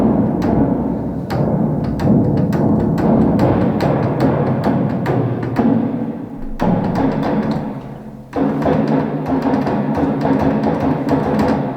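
Epic cinematic drums from the Cinematic Drums virtual instrument package pound with big, booming hits and steady driving percussion, loud and continuous with one brief break.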